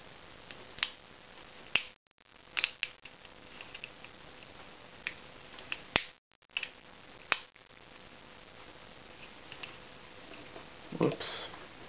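A plastic case top is pressed back onto a small MP3 player speaker, giving a string of sharp, close snaps and clicks spread over several seconds against a quiet background.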